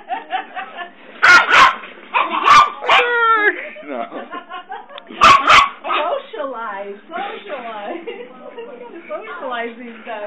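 A little tiny dog lets out sharp, high yips and barks in short clusters, loud and close, between people talking and laughing.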